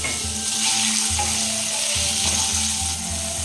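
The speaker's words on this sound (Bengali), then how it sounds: "এবার আমি এই যে আধ ঘন্টা পরে ম্যারিনেট করে নিয়ে এসেছি মুরগির মাংসটা, এটাকে একটু ভেজে নেব।" Marinated chicken fries in oil in a wok with a bright, continuous sizzle, while several regular spatula strokes stir and scrape the meat. The sound is close and moderately loud, with no voices.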